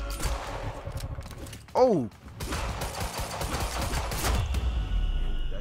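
Gunfire from the video game Quantum Break fires as dense, rapid bursts of shots, loud and continuous across the stretch, while a voice briefly exclaims partway through.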